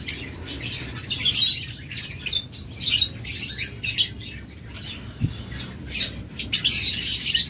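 Diamond doves, lovebirds and cockatiels call together in a bird-selling setting, a busy run of overlapping high chirps and squawks with fluttering wings, fairly close and continuous over a low background hum.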